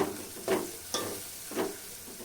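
Turmeric, chili powder and coriander powder are stirred into a frying broad beans curry, with three distinct spoon scrapes against the pan over a quiet, low sizzle.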